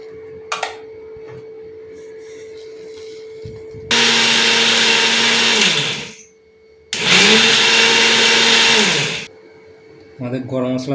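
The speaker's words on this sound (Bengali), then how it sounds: "এবার মিক্সিতে সবকটাকে পিষে নেবো একসঙ্গে" A kitchen mixer grinder whirs loudly in two long bursts of roughly two to three seconds each, grinding dry-roasted garam masala spices, with quieter gaps between runs and a brief voice near the end.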